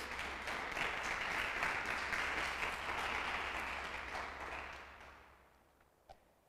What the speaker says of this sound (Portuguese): Você pode dar um aplauso ao Senhor aí?